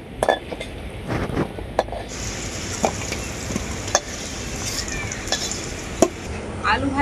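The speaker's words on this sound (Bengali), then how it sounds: "আলুগুলোকে আমি খুব ভালো করে ভেজে নেব।" Potato pieces seasoned with salt and turmeric frying in hot oil in a pan for a mutton dish; a steady sizzle runs throughout, broken by repeated sharp scrapes and clinks of a metal spatula against the pan, close and with no speech.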